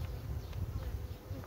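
Honeybees hum steadily around a lifted hive frame during a beekeeper's inspection of a queen, a dense low buzz filling the short stretch with no talking.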